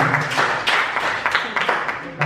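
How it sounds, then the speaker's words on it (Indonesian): An audience at a teacher program session claps for two people who asked questions, a brief burst of scattered applause heard beneath a speaker's voice. "tepuk tangan untuk kedua penanya kita."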